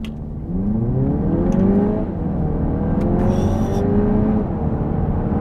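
A 2-litre Audi TT RS engine revs and accelerates hard, its rising engine note sweeping upward through the gears, loud and close throughout with no talk.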